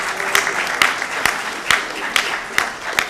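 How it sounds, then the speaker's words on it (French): An audience at a live event applauds an ambassador, a sustained burst of many hands clapping with a steady, dense texture throughout. "Je pense qu'on peut l'applaudir"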